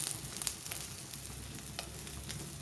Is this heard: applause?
no